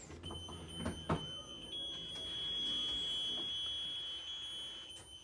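Warning alarm inside a 2018 Tiffin Allegro 37 PA Class A motorhome with its leveling legs down, a faint continuous high-pitched electronic tone with a few soft clunks and handling noises.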